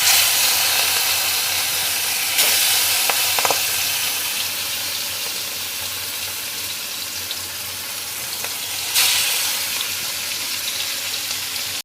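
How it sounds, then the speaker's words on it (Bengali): Pieces of katla fish fry in mustard oil in a kadai, giving a continuous bright sizzle with sharp crackling bursts as fish meets hot oil. "এখন আমি মাছটাকে ভেজে নেব। ভাজার জন্য আমি কড়াইতে তেল বসিয়ে দিয়েছি।"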